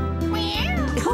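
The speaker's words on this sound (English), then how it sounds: "Meow!" A cartoon kitten from the Postman Pat children's series gives a single short, bright meow, close and clear over a steady musical background.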